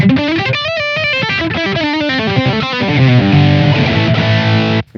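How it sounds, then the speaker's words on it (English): An electric guitar played through a Blackstar Dept 10 amp with power tube distortion, with loud, saturated, overdriven phrases of quick notes and chords ending on a held chord that stops abruptly. "we've got this drive control for adding power tube saturation or distortion"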